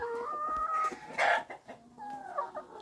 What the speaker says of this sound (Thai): อันนี้ไก่ไข่เพิ่นครับ